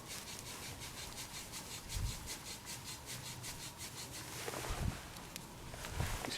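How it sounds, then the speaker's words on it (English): Quiet, rhythmic rubbing and grinding of a wooden bow drill spindle twisting on a wooden board, repeated back-and-forth scraping up close with no talking. "take my spindle and just gently push down and twist it"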